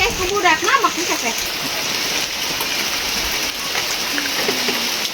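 Light drizzle falling in a rural village, a steady soft patter of raindrops on surfaces, with voices and faint village sounds mixed in over the first moment.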